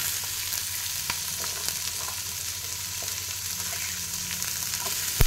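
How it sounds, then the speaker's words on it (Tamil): Onions sautéing in hot oil with curry leaves for a bottle gourd curry, a steady close sizzle with occasional sharp pops and faint scraping of a spoon in the pan. "வெங்காயத்தை போட்டு நல்லா வதக்கணும்"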